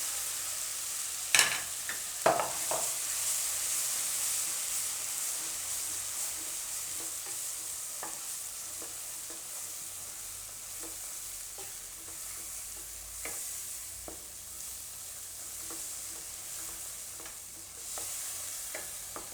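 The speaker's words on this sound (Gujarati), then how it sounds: "હળદર, કલર આવી જાય એમાં એમ, અને લાલ મરચું નાખીને તરત ગ્રેવી નાખી દેવાની." Turmeric and red chili sizzle softly in hot oil on a low flame while a spoon stirs, with a few sharp scraping knocks early on and a steady frying hiss throughout.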